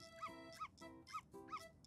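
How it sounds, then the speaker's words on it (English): A dog in the video game Yoshi's Crafted World barks in quick repeated yips, about five sharp close barks in a steady rhythm over a faint background. "Stop barking."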